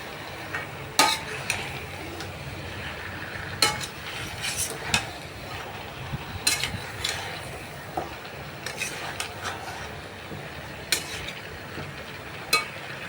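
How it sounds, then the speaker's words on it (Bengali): Chicken pieces tossed side to side in a low-oil pan for Bengali chicken kosha, frying in their own released juices, with scattered spoon scrapes and clinks over a steady soft sizzle, no talking. "এপাশ ওপাশ এপাশ ওপাশ করে নাড়িয়ে ভালো করে দিয়ে দিতে হবে"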